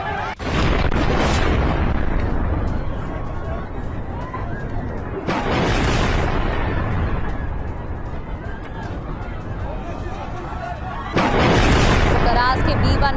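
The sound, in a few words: explosion at Karas B1 bridge after air strike, news footage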